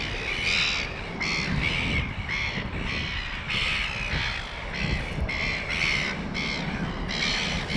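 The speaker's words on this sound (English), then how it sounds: "A lot of birds though." Several crows caw repeatedly near a lake, their harsh calls coming in quick overlapping bursts over a steady outdoor background, loud and close.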